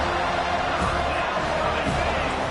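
A home crowd roars at a Florida State vs Clemson college football game as the defense faces third down, a loud, sustained, dense stadium wash with speech mixed in.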